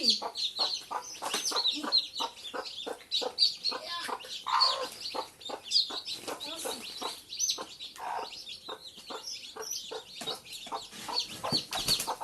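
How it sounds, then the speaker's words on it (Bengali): A backyard mother hen with her thirteen chicks, clucking softly and steadily close up while the chicks peep in quick, high bursts throughout. "মুরগি"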